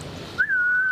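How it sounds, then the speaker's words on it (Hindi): A person whistles a single clear, sustained note that rises briefly and then holds steady, loud and close, following a burst of background noise. "इतनी अच्छी सीटी बजाते हैं आप"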